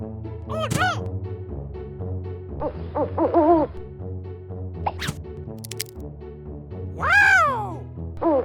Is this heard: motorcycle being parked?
no